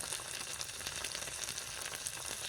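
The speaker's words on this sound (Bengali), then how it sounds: "সুন্দরভাবে মশলাগুলো কষিয়ে নেব" Turmeric and chili powder sizzle and fry in hot oil for egg biryani, a steady, close crackling hiss with no voices over it.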